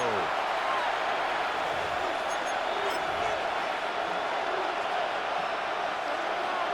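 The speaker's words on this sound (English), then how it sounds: "This crowd turning up the decibel level." A dense roar from a stadium crowd in the Madden NFL 26 football video game, 49ers against Rams, swells loud and continuous for several seconds.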